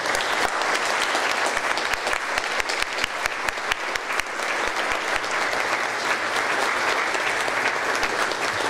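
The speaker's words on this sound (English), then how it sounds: "if you would please stand for a round of applause" A school teacher-of-the-year ceremony audience gives dense, sustained applause for the runner-up, a full crowd clapping loudly and steadily without letup.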